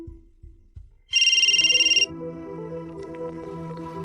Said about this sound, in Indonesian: saya telepon dia lagi untuk mendesak